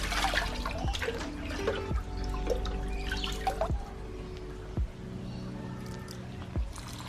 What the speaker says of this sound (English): So I'm going to use some of this water to water our Syngonia and the polybotria.